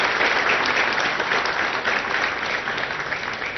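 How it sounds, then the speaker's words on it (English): Steady, full applause from an audience at a ceremony in Hyderabad marking production of the 100th Apache helicopter fuselage; loud, dense clapping that continues throughout and fades slightly toward the end. "So I think a good round of applause to the entire team on that."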